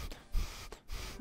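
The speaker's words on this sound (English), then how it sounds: "I was doing random breathing." Random breathing: two short, close breaths, sharp like gasps or snorts, separated by a brief pause in an otherwise quiet moment.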